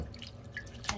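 Fresh coriander is swished in water in the kitchen, giving brief close splashes and drips within a second, ending in one sharper splash.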